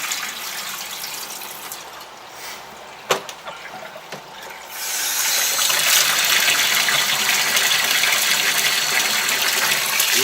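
Water is poured off a container of blackworms: quiet handling and a couple of small knocks, then a steady, loud gushing stream that starts suddenly about halfway through and continues to the end.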